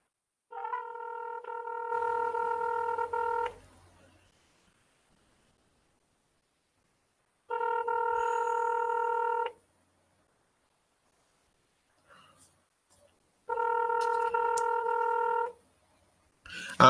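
Touch-tone telephone dialing in three separate bursts, each a steady multi-tone beep lasting two to three seconds with silence between, clear and close, with no talking.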